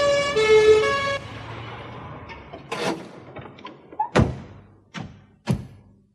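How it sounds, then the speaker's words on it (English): An ambulance siren opens with a brief tonal wail that fades within the first second or so, followed by several sharp thumps and knocks at irregular intervals. "A siren sounded in the distance."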